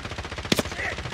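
Gunfire in a shooter video game, a short loud burst of a couple of shots standing out from steady background game noise.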